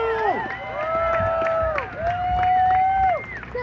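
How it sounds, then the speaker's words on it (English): Protesters at a Minneapolis street demonstration cheer and shout, with drawn-out voices rising over a busy crowd close by and only faint clapping underneath. "Let's give a round of applause."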